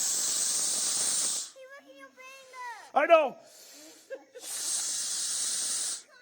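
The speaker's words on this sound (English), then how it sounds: "They've got a flap right in front of their windpipe, and they can hiss really loud." A bull snake hisses loudly in two long, forceful bursts, one at the start and one near the end, with a man's speech in between them.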